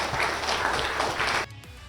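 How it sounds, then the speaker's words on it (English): A crowd applauds a robot at a robotics event, with dense, steady clapping and some cheering that runs loud for about a second and a half, then cuts off sharply to quieter room noise. "Everybody here, give him a big round of applause."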